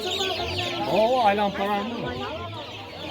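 Chicks and chickens at a busy poultry market, clucking and peeping steadily at close range while people talk over them.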